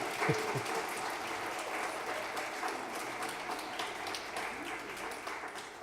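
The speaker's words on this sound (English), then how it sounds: "You can applaud now if you want." Applause from a lunchtime lecture audience greeting a guest speaker, a steady, moderately distant wash of many hands clapping that holds evenly for several seconds without voices on top.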